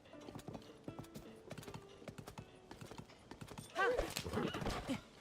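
Rhythmic horse hooves clip-clop at a steady pace in a Zelda video game, followed by a brief horse whinny near the end.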